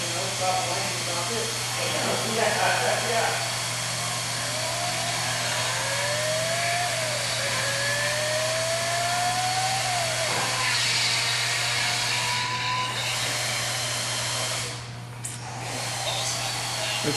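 A supercar engine fitted with a non-stock exhaust revs to very high RPM in a played-back recording, giving a steady, loud, high-pitched wail with rising pitch sweeps, and people talk over it throughout.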